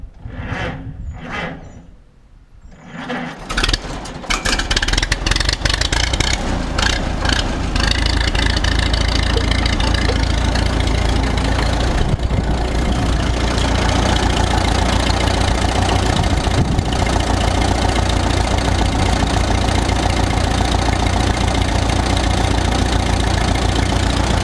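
An Oliver 66 tractor with carburetor and electrical trouble cranks with a few knocks, then starts and settles into a loud, steady, close idle that runs on unbroken.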